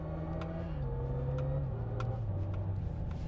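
Hyundai IONIQ 5 N electric car playing its simulated engine sound in Evolution mode, a steady synthetic drone that shifts downward in pitch in several steps, with faint clicks over it, close and moderately loud.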